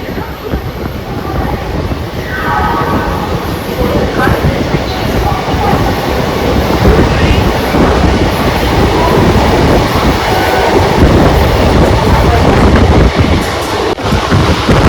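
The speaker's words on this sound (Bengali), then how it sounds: "বন্ধুরা এখন আমাদের ট্রেন স্কিপ করছে মানকুন্ডু স্টেশন" Inside an Indian intercity express train running through a station without stopping, a loud continuous roar of wheels on rail carries a rolling clatter from start to finish, with brief squealing notes in places.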